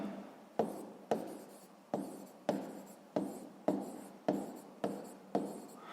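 Pen writing on paper for a maths exercise, with about nine repeated strokes at a steady rhythm, close and fairly quiet, and no talking.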